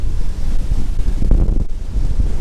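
Strong wind buffeting a microphone on top of a grain bin during soybean harvest, a continuous loud low roar with gusty surges and no talking.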